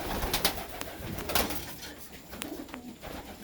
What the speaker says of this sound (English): You love the pigeons.